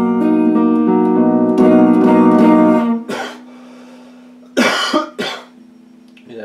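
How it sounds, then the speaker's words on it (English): A few harsh, raspy coughs break out over a steady droning tone, then two more sharp coughs follow after a brief lull. "it's a very bad cough."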